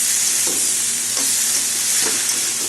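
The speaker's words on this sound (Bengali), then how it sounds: "আগের থেকে মাছের মাথা ভেজে রেখেছিলাম, ওটা এখন দিয়ে দিলাম। মশলা সবজি সব সাথে কষিয়ে নেব।" Pre-fried fish head is stir-fried with spices and vegetables for a Bengali curry, giving a loud, constant close-up sizzle with a few scraping stirs at regular intervals.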